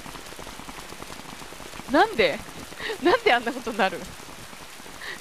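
Steady rain pours in the video game Zettai Zetsumei Toshi 2, a continuous hiss running through the whole scene while someone talks over it in the middle.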